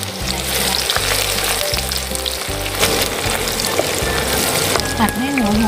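Onion stir-fries in hot oil in a wok as the base for pork fried rice, a continuous loud sizzle and spatter up close, with music playing in the background.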